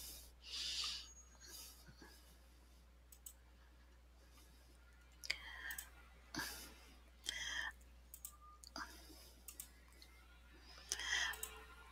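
Sparse, faint computer mouse clicks come one at a time in a quiet room while submitting an assignment in Google Classroom, with soft breathing and small movement noises between them.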